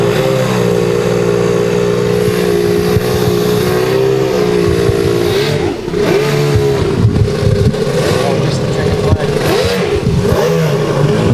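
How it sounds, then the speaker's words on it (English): A racing boat engine mounted on a stand and being run in, loaded by a disc wheel, drones steadily and loud throughout with repeated rising and falling rev sweeps. "They put a disc wheel on the back to put some load on it, and then they can rev it up."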